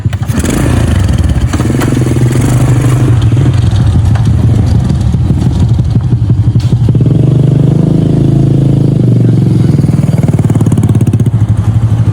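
A motorcycle taxi (ojek) engine runs loud and close, a rough, rumbling idle with clattering that swells as the throttle is revved, continuing steadily throughout.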